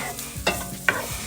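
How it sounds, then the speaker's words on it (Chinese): Ham being stir-fried in a pan over low heat, a soft sizzle broken by two sharp scraping stirs of a spatula, close and alone. "火腿炒香以后，"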